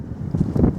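Wind blowing around Lancaster Castle, a steady low rumble of gusts buffeting the microphone, with no talking.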